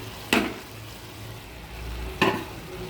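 Paneer, peas and capsicum being sautéed together in a thick spice paste in a pan, giving two sharp stirring scrapes over a low, steady sizzle, with no talking.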